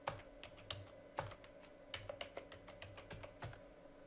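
A password being typed on a computer keyboard: a quick, irregular run of close, crisp key clicks, some louder taps among lighter strokes, with no talking.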